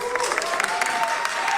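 Crowd applause with some cheering at a Brazilian political gathering, a dense wash of clapping heard at moderate distance and steady throughout, with voices mixed in.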